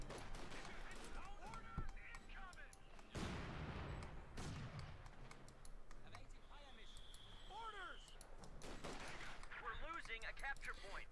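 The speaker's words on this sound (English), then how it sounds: "Mortar firing away." A mortar fires during a Company of Heroes 2 match between Wehrmacht and US Forces, heard as sharp booms and bursts of gunfire scattered through the battle, with a commentator talking over them.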